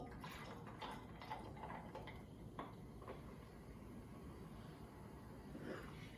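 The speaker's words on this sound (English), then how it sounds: "And simply pour in your tonic water." Tonic water pours into a glass holding rhubarb gin, with a quiet, steady fizzing trickle, faint and close, continuing for several seconds without speech.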